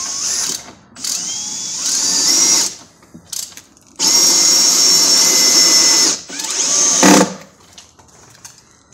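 A cordless drill-driver sets screws into roof timber during a rafter modification for external wall insulation. It gives several close, loud whirring runs of varying length with brief pauses between them, and no talk.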